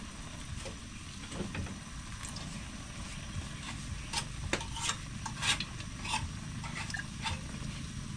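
Vinegar poured into a hot pan of softened food, making a soft, continuous sizzle with scattered scraping and clicking sounds over a low rumble.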